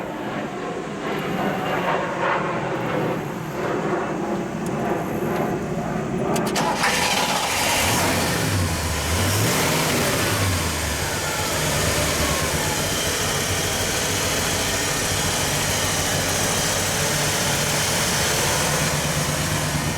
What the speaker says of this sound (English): Let's start her up, please.